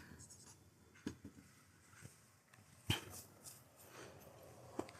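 Pen scratching on paper while writing out a geometry solution about sphere volumes, soft scattered strokes and taps close by, with occasional speech around them.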